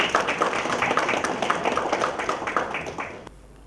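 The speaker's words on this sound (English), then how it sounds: "let's invite him with a big round of applause" A crowd claps for a few seconds to welcome the Governor of Goa at the South India Media Summit 2024: dense, steady applause that stops abruptly.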